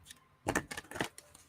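Tarot cards being shuffled by hand in quiet indoor surroundings, a few short papery riffling bursts close to the microphone with brief pauses between them, no talking.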